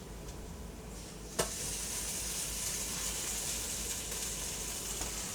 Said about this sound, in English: What we're going to do is cook the tomato paste and brown it a little to get rid of the tinny flavor.